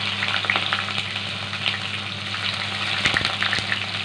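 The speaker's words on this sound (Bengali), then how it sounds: "পেঁয়াজের অর্ধেক, সেটাকেও কুচো করে আমি ভেজে নিচ্ছি" Chopped onion fries in a pan with a loud, steady sizzle and crackle, stirred now and then with scraping clicks, along with a low constant hum in the background.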